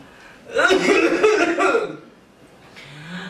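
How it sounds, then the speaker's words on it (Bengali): A patient coughs during a doctor's exam in a comic Chittagonian-dialect skit about a six-month cough: one loud, harsh, drawn-out hacking burst that fades after about a second and a half, followed by quieter room noise. "কাশি দেন"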